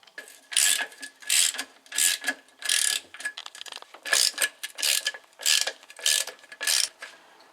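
A ratchet unscrewing the bracket bolts on a Porsche 944 during a clutch job, a dozen or so quick clicking bursts in a steady back-and-forth rhythm, close-up with no talk.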